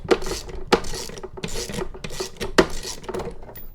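A 5/8 inch deep socket turns out a spark plug on a Craftsman 430 CFM leaf blower. It makes repeated close scraping, ratcheting rasps in short uneven strokes, with no talking.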